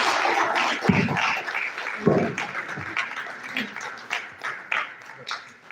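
An audience at a university faculty colloquium lecture gives sustained applause, a dense, steady wash of clapping with scattered louder claps throughout, and a voice talks over part of it.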